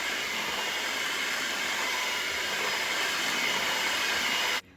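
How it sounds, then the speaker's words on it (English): Pound cake batter with flour and Cherry 7UP being mixed, a steady, loud, even whirring rush that holds unbroken for several seconds and then cuts off abruptly at the end. "Gonna mix everything together until it's well combined."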